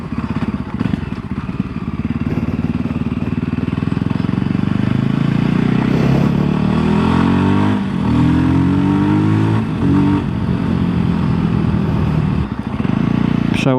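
A 2025 Voge 300 Rally motorcycle engine revs loudly and climbs through its six-speed gearbox, pitch rising and dropping with each shift, close and continuous for the whole stretch.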